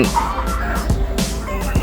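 Backyard village chickens at a Thai farm crowd around mixed feed, producing loud, continuous overlapping clucks and gobbling calls close by with no talking.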